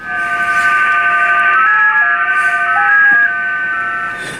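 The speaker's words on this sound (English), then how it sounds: "that's actually J65 mode that we were hearing then" Digital J65 mode signal received on an ICOM IC-746 radio: several steady electronic tones stepping between pitches, loud and continuous, with no talking.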